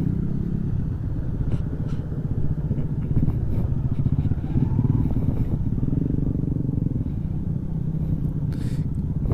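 A Shogun SP 125 motorcycle rides slowly over a rough, dry riverbed, its engine note steady and close. Rattling and clattering from the uneven ground sit over the constant engine drone throughout.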